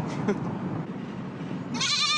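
A goat at a local Moroccan souk, being sold, bleats in a short wavering call near the end over a background of market noise.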